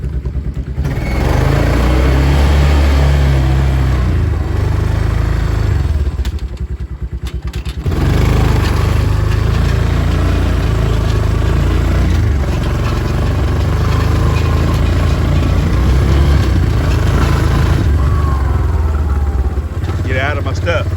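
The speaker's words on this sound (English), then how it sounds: "we're gonna get on our favorite little, little machine, our farm machine, as you would say. Well, our farm 4-wheeler." A farm four-wheeler engine runs loud and close for the whole stretch, a steady rough drone that briefly dips and then resumes.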